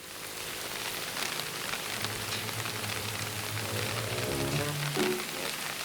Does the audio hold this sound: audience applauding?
no